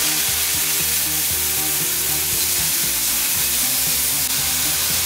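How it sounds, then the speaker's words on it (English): Very thin steak pieces sizzle steadily and loudly in a hot, oiled pan, a continuous crackling fry with no voices over it. "I'm going to very gently put in our pieces of steak"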